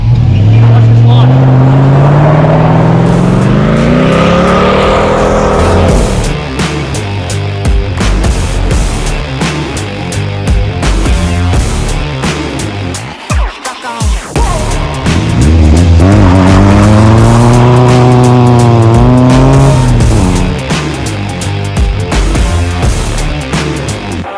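A car launches hard from a standstill, its engine revving loud and rising in pitch through the gears, with a brief tire squeal and a sharp burst midway, heard close and continuous, with voices underneath.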